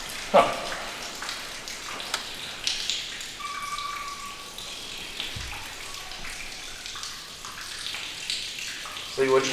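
Rainwater pours steadily in through a leaking front corner of a dark building interior, a continuous splashing wash with a few sharper knocks, heard under people talking.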